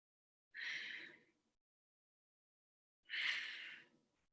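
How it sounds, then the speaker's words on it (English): Two forceful exhales during an abs workout, each a short, breathy rush of air close to the mic, separated by a couple of seconds of silence. "big exhale coming up"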